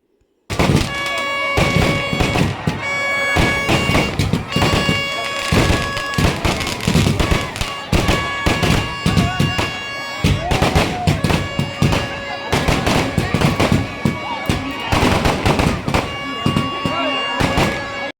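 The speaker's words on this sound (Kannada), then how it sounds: "ಹಾಗಾಗಿ ಫುಲ್ಲು ಪಟಾಕಿ ಎಲ್ಲ ಹೊಡಿತಾ ಇದ್ದಾರೆ ಇಲ್ಲಿ" Firecrackers burst nonstop at a village temple fair as a palanquin procession passes, a loud, dense barrage of sharp cracks and booms overlapping one another without a pause.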